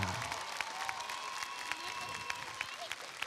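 Crowd at a gaming show in Toulouse keeps up steady applause with scattered cheers, a dense wash of clapping under faint background voices, with occasional sharper claps standing out.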